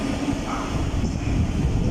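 A Thameslink Class 700 electric train, unit 700 152, departing London Bridge, a steady loud rumble and whine that fills the whole stretch without pause.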